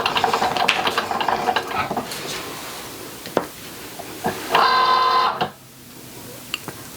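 Cricut machine cutting vinyl, a faint whirring mechanism with small clicks and a brief louder buzzing pass before it stops, heard close against a quiet background.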